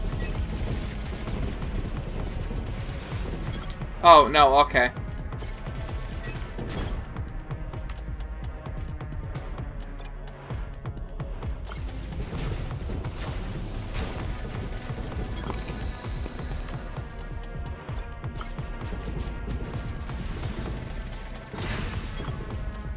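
Drones attacking a frigate in the sci-fi tactics game Crying Suns, a sharp crash burst followed by ongoing mechanical thuds and electronic weapon impacts over a droning score, with brief speech.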